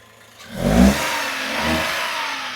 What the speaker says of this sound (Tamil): நான் இப்போ வண்டி ஆன் பண்ணி வச்சு தான் காட்டுறேன் உங்களுக்கு